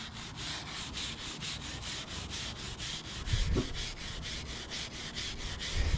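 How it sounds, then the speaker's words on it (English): A stiff brush scrubs rust off old woodworking machinery in fast, even back-and-forth strokes, a close, steady rasping rhythm that continues throughout with a brief low knock partway through. "This is a very stiff brush. It's gonna keep working."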